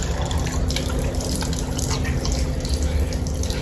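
A small trickle of water runs and drips steadily close by, a thin continuous splashing with a low hum beneath it.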